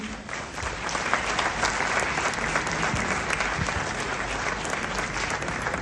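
Loud, dense applause from a concert audience at a Holi festival show, welcoming a singer, steady and sustained throughout.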